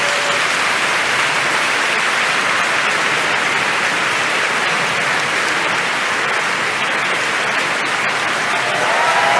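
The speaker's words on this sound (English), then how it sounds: "can we give them all a big clap and welcome if you're here." Large conference audience at a medical education meeting in Vienna applauding, a dense, steady wash of clapping that fills the whole stretch loudly and evenly, with no voices over it.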